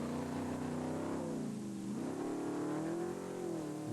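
A Baldwin trophy truck engine at the 1998 Baja 1000 off-road race revs steadily and loudly up close, its pitch dipping and rising again across a continuous roar with no talk.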